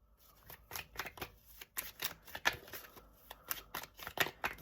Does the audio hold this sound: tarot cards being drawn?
yes